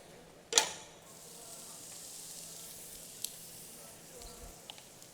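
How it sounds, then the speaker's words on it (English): Red onions sweat in a pan for pepper relish, a soft, faint sizzle after a brief clatter at the start, with a few small ticks later. "what I'm doing right now to finish on my pepper relish is to slowly sweat the red onions"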